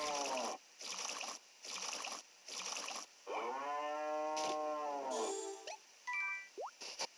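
Cows moo on a farm in the Story of Seasons: Trio of Towns video game, several game sound effects in a row followed by a longer moo and a few short plopping blips.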